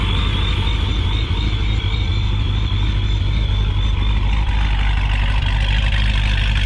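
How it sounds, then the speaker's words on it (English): A pro-charged Callaway C7 Corvette with a 418 stroker V8 runs steadily, a deep continuous rumble with a supercharger whine on top, close and alone with no talking. "This is Lee's Corvette that we're going to be riding in. It's a Callaway C7 418 stroker,"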